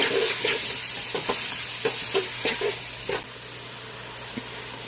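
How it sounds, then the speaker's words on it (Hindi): Whole cumin, ground coriander, garam masala and biryani masala sizzle in hot oil for egg biryani, a soft steady hiss with several sharp spoon scrapes close by, no talking. "गरम मसाला, साबुत ज़ीरा और पिसा हुआ धनिया और मसाले को अच्छे से भून लेंगे।"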